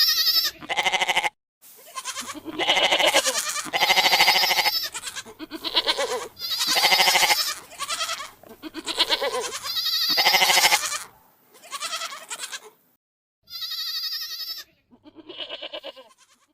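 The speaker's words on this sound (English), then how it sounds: "we should just enjoy the goat noises and how cute they are just for a moment." Goats bleat loudly and repeatedly near a farm's straw bale buildings, a run of close, wavering cries with short gaps, some calls overlapping, fading to quieter bleats at the end.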